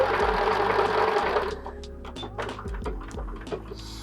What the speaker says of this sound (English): I like to try and do continuous sewing where I can.